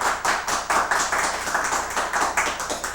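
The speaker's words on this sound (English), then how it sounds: "I think that our audience outside should give a round of" Audience applauding boys and girls at a student event in Grand Prairie, a steady crowd of many clapping hands rising and falling in waves throughout, fairly close and full, with no voices over it.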